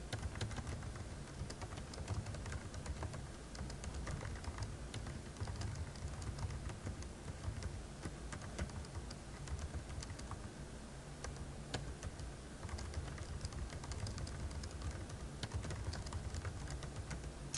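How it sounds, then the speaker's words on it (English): Continuous typing on a computer keyboard, steady rapid key clicks throughout, faint and close with no talk. "you'll just type it in there"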